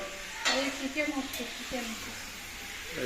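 Chicken cooking in a pan on a home stove, a soft sizzle with a few stirring scrapes and knocks against the pan, partly under a person speaking nearby.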